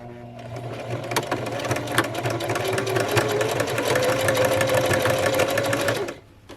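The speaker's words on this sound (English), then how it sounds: "to finish off the buttonhole, I'm going to do another zigzag stitch" A sewing machine stitches a zigzag across the bottom of a buttonhole, a loud steady needle clatter running nonstop for about six seconds before stopping abruptly.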